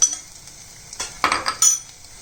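Spinach curry with coriander powder being sautéed, with a few short clinks and scrapes of a utensil against the pan over a faint sizzle, no talking.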